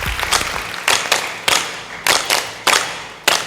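An audience claps for a live choreographed dance, sharp claps landing in a steady rhythmic beat, close and prominent.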